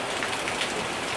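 Steady rain falling on a surface, a dense even hiss of raindrops with no talk, close and continuous throughout.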